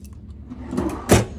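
A drawer in a hotel room at the Choctaw Casino Sky Tower slides on its runners with a soft rumble, ending in a brief, fairly loud knock as it shuts near the listener.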